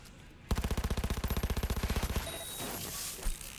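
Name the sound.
gunfire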